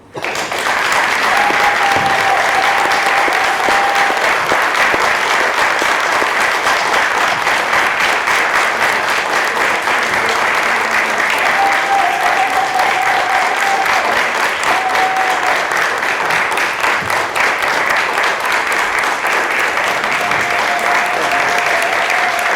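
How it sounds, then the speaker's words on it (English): Long, loud, sustained applause from an audience at a Toastmasters speech contest, dense and even, with faint voices occasionally rising through it. "Big round of applause"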